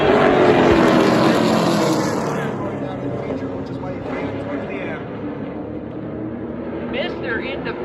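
Super late model race cars at Oxford Plains Speedway roll off to start a heat race, engines roaring loud and continuous, then easing slightly as the pack pulls away, with an announcer talking over the noise.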